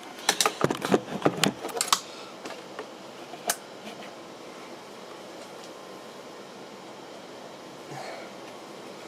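Records dropping and clattering off a 1960s Magnavox Micromatic record changer as they are unloaded: a cluster of sharp close clicks and knocks in the first two seconds, a lone knock later, then quiet room hiss.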